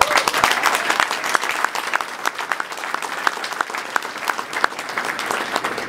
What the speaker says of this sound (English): the Prime Minister of Albania, Edi Rama, with a round of applause.